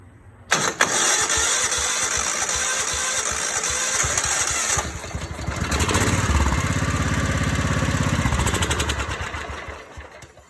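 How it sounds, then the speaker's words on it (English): A John Deere LX173 riding mower's small engine cranks and catches, then runs loudly and roughly near the listener for several seconds, surging and fading as it struggles to stay running. "Let's hit the key and see what happens."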